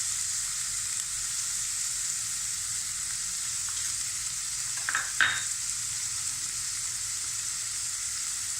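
Vegetable noodles fry in a pan with salt, red chilli and black pepper, giving an even, close hissing sizzle with a couple of brief scraping stirs near the middle.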